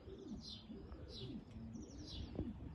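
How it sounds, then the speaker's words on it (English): Pigeons returning home at a loft coo softly in the open air, with a few chirps and low throaty calls spaced out over a faint background hiss and no talk. "I'm waiting on my birds coming in."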